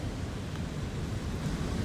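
Rushing water of a waterfall and river running high at Falls Park, a steady dense roar close by with no pauses, alone with no voices.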